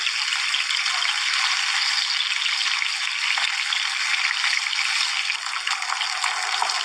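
Fish pieces fry in a pan of hot oil, giving a loud, even sizzle and hiss that carries on unbroken at close range, with no voices.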